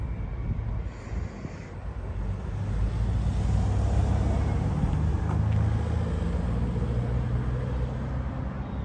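A Ford Fiesta ST3 fitted with an induction kit idles up close with a steady, low, even rumble, partly buffeted by wind noise across the microphone.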